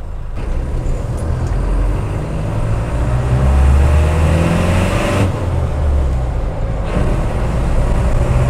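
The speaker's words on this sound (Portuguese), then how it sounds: "Dirigir veículo a diesel é uma coisa fantástica." Diesel vehicle accelerating in second gear, a loud continuous engine drone and road rumble that swells and holds, with no speech.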